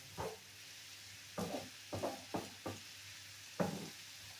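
Onion frying with button mushrooms in a pan, heard as a handful of short sizzling, scraping bursts from stirring, spaced apart over a low steady background hiss, with no talking.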